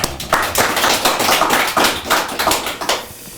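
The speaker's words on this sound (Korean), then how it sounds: "하나님께 감사의 박수합니다." Members of a church congregation clap together in thanks, a close, rhythmic series of distinct hand claps in a fairly even beat, fading slightly at the end.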